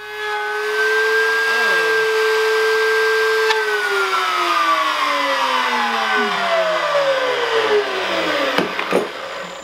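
A router on a router table cutting through a sacrificial board gives a steady high motor whine, loud and close, that then winds down in falling pitch, with a sharp snap near the end.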